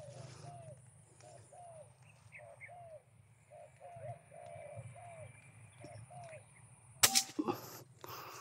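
A wild dove coos repeatedly in short soft calls at a hunting spot, moderately near over low rustling, before a single sharp, loud gunshot cracks out near the end.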